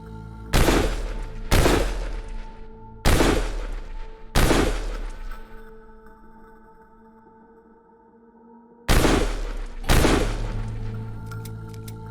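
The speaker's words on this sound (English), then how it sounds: "Starting with our shotguns, the pump action is probably the closest to being finished" Shotguns, a pump-action among them, fire in a video game under development: six loud, sharp blasts in two groups, the first four spaced about a second apart, then a quiet pause before two more, each trailing a ringing metallic tail.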